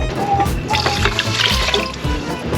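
Water runs and splashes steadily into a pot for a couple of seconds, a close, continuous pouring sound with faint clinks, no talking.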